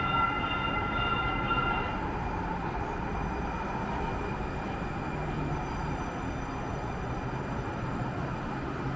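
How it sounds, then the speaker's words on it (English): Valley Metro light rail train in Phoenix, a steady close rumble of cars rolling along the track for the whole stretch, with high tonal whines that fade early on and no voices. "I hopped on the Valley Metro light rail south through Midtown and downtown Phoenix"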